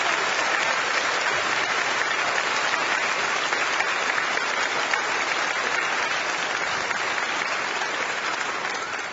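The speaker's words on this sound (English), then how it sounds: "So anytime you feel like clapping for it, you just go right ahead." Church congregation applauding in a large sanctuary, a steady dense wash of clapping from many hands that holds loud and even for about nine seconds before easing slightly at the end.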